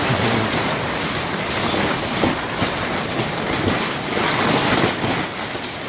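A February wind storm buffets and flaps loose greenhouse plastic, a loud, continuous roaring rush with gusty swells throughout and no voices.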